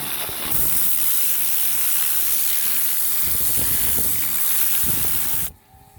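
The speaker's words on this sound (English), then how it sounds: "You can also use the Karcher to do the edges." A Karcher pressure washer sprays water along the edges of garden paving to blast out weeds, a loud continuous rushing hiss that runs steadily for several seconds and then cuts off abruptly near the end.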